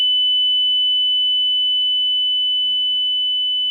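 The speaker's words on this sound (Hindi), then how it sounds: "तो मैं बजर पे प्रेस कर रहा हूं।" The buzzer of a Cook's pole climbing apparatus, a lab device for testing sedative drugs: one continuous, loud, pure electronic tone that holds steady for the whole span.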